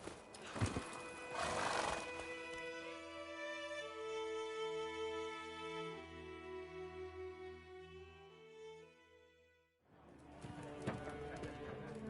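A horse in a video game set around White Orchard clip-clops along at a trot, and a long, loud whinny rings out in the middle, with bursts of hoofbeats at the start and end.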